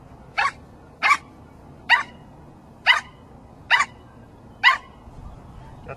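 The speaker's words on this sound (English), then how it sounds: "That's the bark the director likes." A German Shepherd barks six times, single sharp barks spaced about a second apart, loud and close with no other sounds and no talk.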